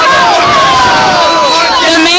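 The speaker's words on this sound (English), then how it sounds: "So there's now a good-sized crowd." A large crowd of protesters at a Gaza demonstration in San Francisco fills the air with dense, loud babble of many overlapping voices.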